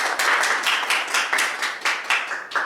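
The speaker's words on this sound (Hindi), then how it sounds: "आप अपने लिए खुद ही तालियां बजा दें।" A small audience at a panel event claps in distinct bursts, a little uneven, each round of hand claps close and crisp, with no talking over it.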